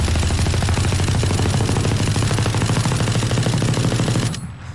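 Ares machine gun from the game Valorant firing one long unbroken full-auto burst, a loud rapid rattle of shots that stops abruptly near the end.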